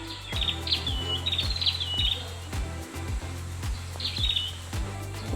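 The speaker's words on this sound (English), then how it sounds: "hear the birds" Bright bird chirps and short trilling calls come in bursts at a jungle hotel on Lombok island, over a low, rhythmic pulsing hum that thumps steadily throughout.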